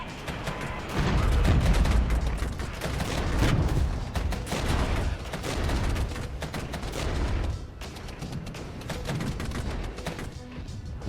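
Mortars fire repeatedly in the real-time strategy war game Regiments, with dense continuous booms and crashing blasts mixed into ongoing battle gunfire, loud throughout with no talking.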